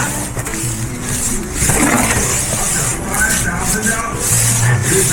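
A car engine revs under load while tires spin in a repair setting, a rough continuous roar that swells and eases over a few seconds, close and loud.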